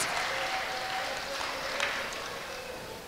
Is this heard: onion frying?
no